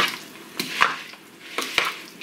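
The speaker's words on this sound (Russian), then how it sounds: "тщательно перемешиваем" A crab stick and tomato salad being thoroughly stirred in a bowl, with a few soft wet squelches and light clinks from the utensil at irregular intervals, close up.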